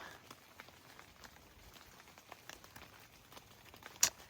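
Rain falls in a mountain forest, a faint, steady patter of scattered drops with one sharper, louder tap near the end, and no voices.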